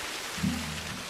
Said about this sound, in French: moi c'est le bruit de la cascade qui est bugué.